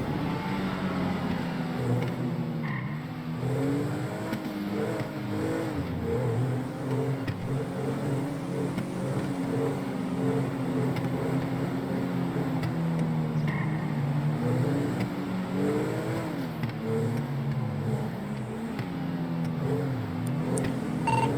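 Cars driving on a road in a video game, a continuous engine drone that rises and falls in pitch as the vehicle accelerates and eases off, steady and mid-level with no talk.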